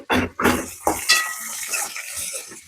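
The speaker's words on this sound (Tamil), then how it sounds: "வெங்காயம் ஓரளவு வதங்கிச்சு" Onions and tomato sizzle and fry in a pan while a utensil stirs and scrapes against it in a few quick strokes, close and moderately loud.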